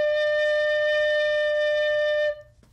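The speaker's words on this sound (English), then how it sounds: "So I'll start by playing a low-pitched sound on my tin whistle." A single sustained low note on a tin whistle held steadily for about two seconds, then cut off, with a faint background hum.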